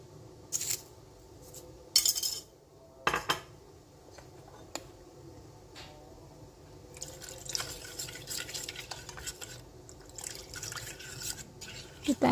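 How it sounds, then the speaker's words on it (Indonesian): A spoon stirs a pandan leaf and white sugar mixture for es pisang ijo, giving soft wet clinks and drips in a quiet kitchen, with a few louder knocks against the pot. "Kita aduk-aduk lagi."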